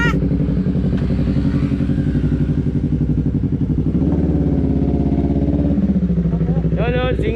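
Yamaha YZF-R3 motorcycle with a newly converted catalytic exhaust running loud and steady close by, its engine note rising briefly near the end, with people talking over it.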